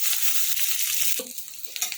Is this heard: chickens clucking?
no